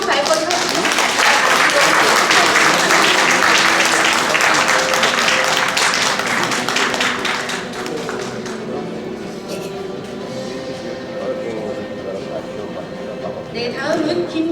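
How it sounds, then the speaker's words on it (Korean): Loud, dense applause from the audience at a Mulmangcho Day commemorative ceremony during a certificate of appreciation presentation, sustained for about eight seconds before thinning into softer scattered clapping with room murmur, then a brief swell near the end. "큰 박수 부탁드리며"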